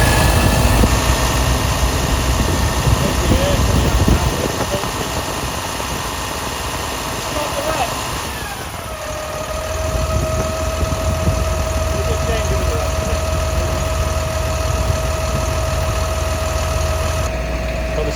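A diesel engine idles steadily and close by, its even, continuous rumble running throughout with a slight shift in tone about halfway through.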